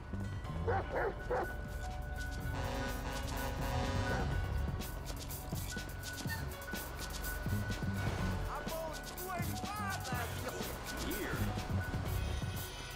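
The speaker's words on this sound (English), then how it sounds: "Come on, Chop. Come on. Go bite his ass." In the video game GTA 5, a dog barks, yips and whimpers repeatedly while attacking, with a voice talking and shouting over the bursts of barking.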